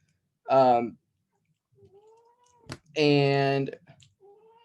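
A house cat meows loudly at a door, two drawn-out, harmonic cries about two seconds apart, with a faint voice and soft background sounds between them.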